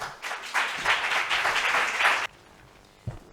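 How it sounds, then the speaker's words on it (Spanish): An audience claps for about two seconds at a literature event at the Ateneo de Jerez, the applause broad and steady before it cuts off, leaving near quiet and one faint thump. "Vamos a darle un aplauso, por favor"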